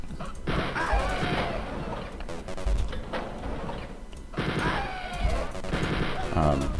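Enemy guards fire in the video game Wolfenstein 3D, with sharp retro gunshots and bursts of rapid fire repeating across the stretch, loud and close, mixed with other game noises.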